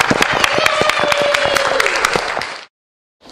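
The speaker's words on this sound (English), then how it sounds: "Big round of applause for Mohammed the merchant" An audience claps loudly and fast for a student playing Mohammed the merchant in a classroom marketplace exercise, a dense burst of applause with a whistle over it that stops abruptly.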